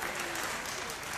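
Audience clapping at a wedding celebration, a brief continuous wash of applause heard at a distance, fairly faint and even throughout.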